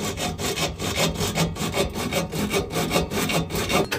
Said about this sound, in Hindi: ग्राइंडर छोड़ के हम यहाँ पे आरी का इस्तेमाल कर रहे हैं।